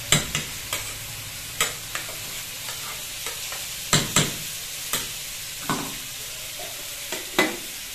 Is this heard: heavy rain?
no